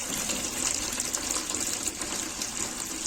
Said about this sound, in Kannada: ಬಕೆಟ್ಗೆ ನೀವು ನೀರು ಈ ತರ ಬಿಟ್ರೆ ಸೊ ಎಲ್ಲಾ ಕೊಳೆ ನೀರು ಕೂಡ ಖಾಲಿ ಆಗುತ್ತೆ